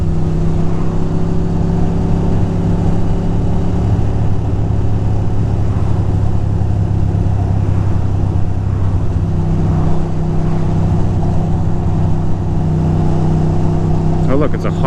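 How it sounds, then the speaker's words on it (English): Road traffic heard from a Harley-Davidson motorcycle touring near Bar Harbor, a steady engine drone with cars passing around it, continuous and fairly loud throughout. "Uh-oh, we got a little bit of traffic here"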